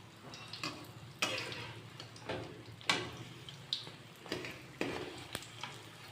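Mysore bondas frying in hot oil, a soft bubbling sizzle broken by several sharp clicks and scrapes of a spoon or ladle turning them, fairly quiet and close.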